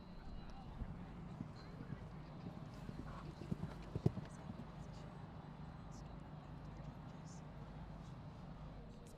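Soft, steady clip-clop of a grey horse's hooves in a side-saddle class at the Royal Highland Show, faint and fairly distant, over a constant background hum of outdoor murmur.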